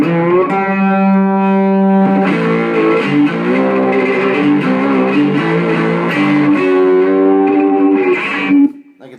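A cigar box guitar played through distortion settings rings out sustained, buzzing overdriven notes and chords, loud and continuous, before cutting off at the end.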